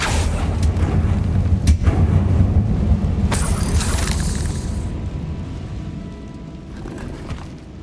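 A Confringo spell explosion in Hogwarts Legacy, a deep booming blast with rumbling impacts and a couple of sharp cracks, fading into a quieter lingering rumble.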